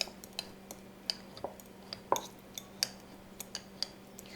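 Fork or whisk clinking and tapping against the side of a bowl while mashing lemon juice and olive oil for a vinaigrette, a run of light, irregular clicks and ticks, close and fairly quiet.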